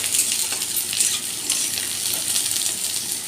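Snake gourd and potato fry in a pan with a dense, even hiss of sizzling oil that stays close and continuous, with no voices.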